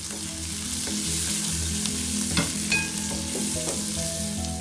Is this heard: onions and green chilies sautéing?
yes